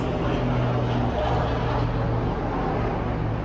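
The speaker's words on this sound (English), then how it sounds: "helicopters." A helicopter flies over Miami, heard as a continuous loud engine and rotor drone with a low rumbling hum that stays steady throughout.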